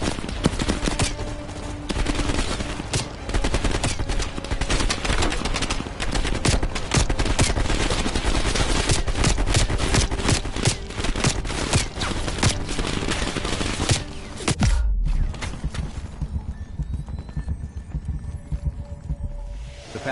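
Heavy automatic gunfire and explosions from a firefight in Call of Duty Black Ops Cold War on PS5, rapid sustained bursts dominating the first fifteen seconds before dropping off into quieter ambient game sound.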